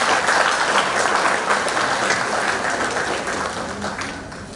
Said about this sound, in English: I want to clap for them publicly.